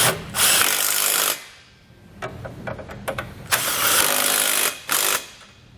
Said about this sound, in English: Take a 19mm socket, we'll tighten them all into place.